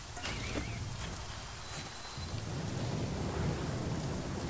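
Rain and rumbling thunder in the survival game The Flame In The Flood, with a steady hiss of falling rain over a low, rolling thunder rumble, heard alone without voices.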